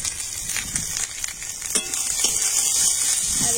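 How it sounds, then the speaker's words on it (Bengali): Whole cumin, four bay leaves, onion and green chilli land in hot oil left from frying potatoes for a country chicken curry, bursting into loud crackling sizzle with sharp pops and stirring scrapes. "আর এখন ওই আলু ভাজা তেলের মধ্যে আমি দিয়ে দিচ্ছি গোটা জিরে, দিয়ে দিচ্ছি 4টা তেজপাতা, আর দিয়ে দেবো পেঁয়াজ আর কাঁচা লঙ্কা।"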